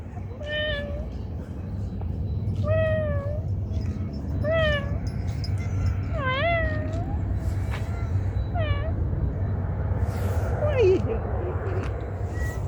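A cat meows repeatedly outdoors, about seven drawn-out, rising-and-falling cries spaced a second or two apart, close and clear over steady wind or traffic rumble, with a faint distant aircraft drone.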